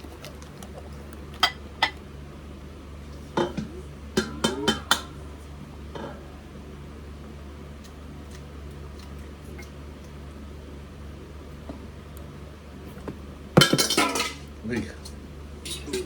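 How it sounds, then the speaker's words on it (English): Egg and milk being whisked together in a bowl: a utensil clinks against the dish in scattered bursts, with a busier flurry of rapid taps near the end, amid a low steady hum and a brief spoken word. "So I'm just mixing the egg and the milk together."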